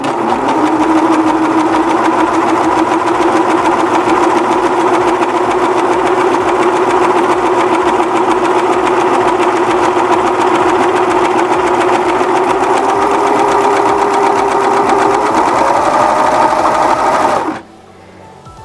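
A serger sewing machine runs steadily at its longest stitch length of 5, gathering fabric as it stitches, with a continuous close motor hum for about seventeen seconds before it stops abruptly.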